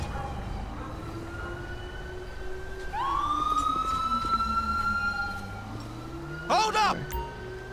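Ambulance siren in GTA V's LSPDFR mod, a rising wail that swells in partway through over engine drone and traffic noise, with a brief burst of horn-like blaring near the end and voices underneath.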